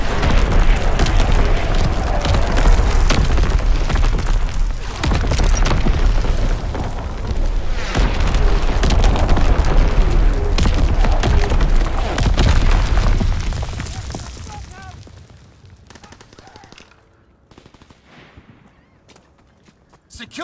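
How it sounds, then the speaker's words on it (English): Heavy artillery explosions boom in a Call of Duty battle, a loud, dense barrage of blasts and gunfire rumbling continuously for about fifteen seconds before fading to quieter sounds. "Incoming enemy artillery!"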